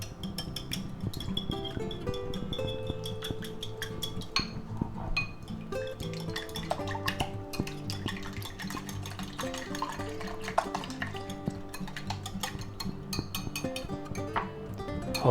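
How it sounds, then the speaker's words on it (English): Eggs are beaten with water, salt and pepper in a bowl, with a rapid, irregular clinking of a utensil against the dish, close and fairly quiet, continuing throughout with no speech. "we're going to go ahead and beat them up"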